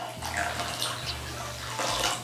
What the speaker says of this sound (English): And then in goes 1 more cup of boiling water.